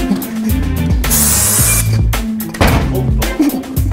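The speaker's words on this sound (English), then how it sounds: "Taste the new pepper spray." Pepper spray is discharged during a security guard takedown. Two short, loud hissing bursts stand out over a heavy, low, droning background.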